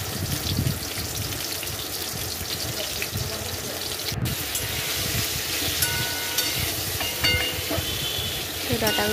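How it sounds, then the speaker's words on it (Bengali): Drumstick stalks and mixed vegetables fry in a pan, giving a continuous loud sizzle and crackle with occasional stirring scrapes throughout. "তো এবার ডাটাগুলোকে ফার্স্টে ভেজে নেব"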